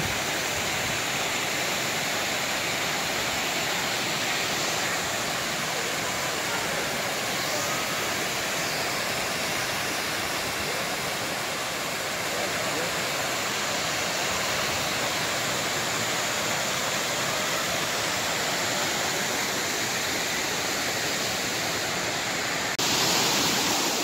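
A beautiful river flows in a continuous, loud, broadband rush of water that stays steady for the whole stretch, with no voices over it.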